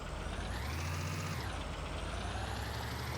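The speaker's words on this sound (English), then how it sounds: "I don't think I've taken this truck this way before." A truck in the Ranch Simulator video game drives with a continuous loud engine roar, and an air brake hisses partway through.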